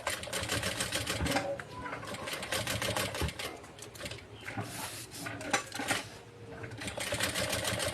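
Sewing machine stitching around fabric pieces, a rapid mechanical chatter that runs nearly continuously with brief slowdowns, close, while someone talks over it.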